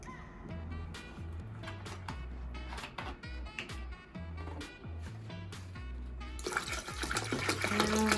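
Water pours steadily into a container for making aguas frescas, with gurgling, bubbling splashes, then grows brighter and fuller toward the end, close and moderately quiet.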